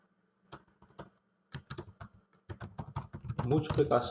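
Keys tapping on a computer keyboard as a title is typed in, sparse single strokes at first that quicken into a dense burst of typing, close and clear, with no talk.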